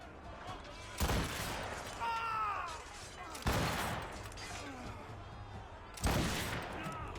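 A puckle gun fires in Assassin's Creed Rogue, three heavy booming volleys spaced a few seconds apart over a steady background rumble, with faint voices in between.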